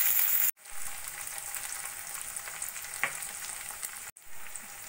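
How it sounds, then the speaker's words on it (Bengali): Chopped garlic, thinly sliced onion and green chilies fry in a pan with salt and turmeric, giving a steady close crackling sizzle with a stir-like clatter midway and two brief cuts to silence. "এবার আমি সবকিছু ভালো করে একটু ভাজা ভাজা করে নেব"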